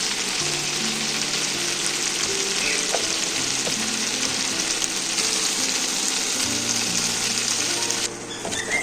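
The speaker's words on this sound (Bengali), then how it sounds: "আর তেল দিয়ে দেবো জিরে, শুকনো লঙ্কা," Cumin seeds, dried red chillies and garam masala sizzle steadily in hot oil in a home kitchen pan, a loud, close, continuous hiss with faint stirring clicks and a brief dip near the end.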